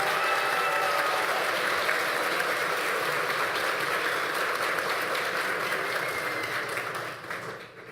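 Loud, dense applause from an audience at a formal legislative chamber ceremony honouring a group, a continuous wash of clapping that holds steady and then tapers off near the end.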